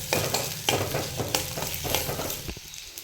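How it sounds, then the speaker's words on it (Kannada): Onion, ginger and garlic fry in a pan while being stirred, a steady loud sizzle broken by repeated scraping strokes of a spatula, with a sharp clack near the end. "ಮೀಡಿಯಮ್ ಸೈಜ್ 1 ಈರುಳ್ಳಿ ಹಾಕ್ತಾಯಿದ್ದೀನಿ. ಚೆನ್ನಾಗಿ ಫ್ರೈ ಮಾಡ್ತೀನಿ."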